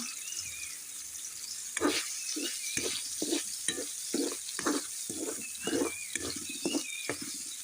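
Sausages fry in hot coconut oil, making a constant hiss close by while a utensil scrapes and stirs the pan in repeated uneven strokes. Nobody speaks.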